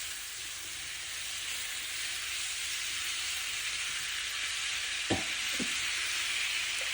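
Leeks and dried fish frying in a pan over medium heat give a steady, close sizzle, with a couple of brief scraping stir strokes near the end.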